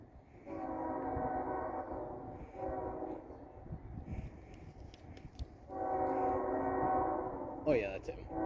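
Norfolk Southern freight train led by a Monongahela heritage locomotive sounds its horn in three long blasts, loud and nearby, with rumbling rail noise between them and brief voices in the background.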